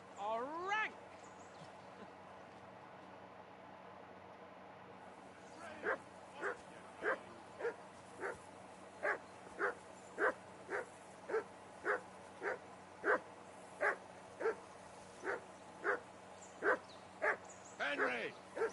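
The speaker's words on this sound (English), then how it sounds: "That bark was a pain in the ass." A dog in Kingdom Come: Deliverance 2 barks in a steady run of about twenty sharp, evenly spaced barks at a riverbank campsite, preceded by a brief rising whine and low ambient game sound.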